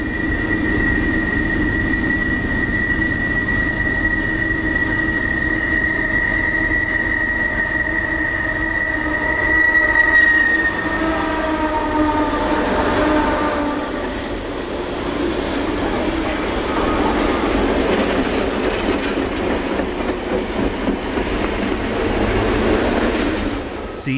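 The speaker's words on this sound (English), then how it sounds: "rumbles by with an assortment of locomotives from various owners." A long freight train rumbles past in Kirkwood, Missouri, with heavy locomotive engines from various owners droning, a steady horn-like tone early, then wheels grinding and clattering along the rails.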